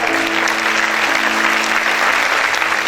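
Sustained applause from a church congregation, steady and loud throughout, with a faint tonal hum underneath.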